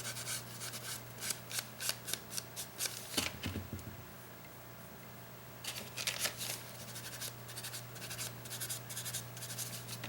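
Paper gently rubbed over painted acrylic press-on nails gives soft, scratchy strokes in quick repeated bursts, pausing briefly in the middle, close by and with no talking.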